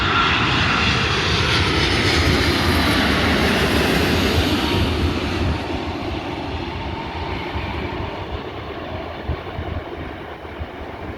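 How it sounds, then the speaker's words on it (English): A Boeing 787 Dreamliner airliner at Manchester Airport roars loudly as broadband jet noise, fading slightly midway as the aircraft moves off, with no voices. "Special thing about that plane is it's obviously a Dreamliner and it took a bit of float on touchdown."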